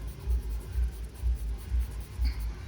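A Conte Paris charcoal pencil drawing across paper in close, steady back-and-forth strokes, each a soft scratchy rasp, about six in a row with no one talking.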